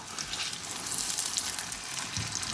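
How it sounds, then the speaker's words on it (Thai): Steady close-up sizzling of an eggplant omelette frying in hot oil in a pan, a bright crackling hiss with small pops and no talking. "พอทอดไปประมาณนึงเราก็มากลับ ข้างเลยนะคะ"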